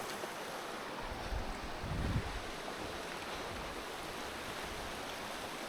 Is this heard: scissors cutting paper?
no